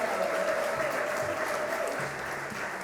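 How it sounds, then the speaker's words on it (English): Audience at a panel event on the Americans with Disabilities Act gives a round of applause for performers and a spoken word artist, steady clapping from a crowd filling the room. "Let's give another round of applause to our performers and spoken word artist, Katie, as well."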